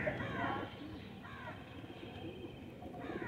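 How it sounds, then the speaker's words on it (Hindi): A Teddy Salara pigeon coos in short, soft rolling calls, repeated several times at close range over a low background hum. "ये कबूतर टैडी सलारा कबूतर"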